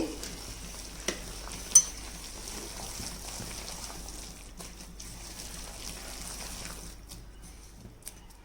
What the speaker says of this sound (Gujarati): હવે આપણે તે બધું જ મિક્સ કરી દઈએ સરસ રીતે.